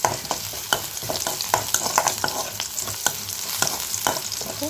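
Onion, curry leaves and green chili sizzle and crackle as they fry in a pan and get stirred, with scraping utensil strokes recurring steadily over a constant close sizzle. No one speaks.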